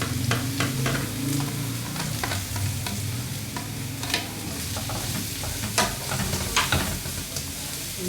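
Cabbage and capsicum being stir-fried in a pan, a steady close sizzle with a low rumble beneath and repeated sharp scrapes and clinks of the spatula, with no talking.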